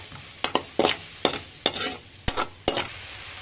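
A spoon stirs lemon juice into a honey chilli potato sauce in a pan: a handful of sharp scraping clinks in uneven rhythm with soft wet swishes between, close up and quiet.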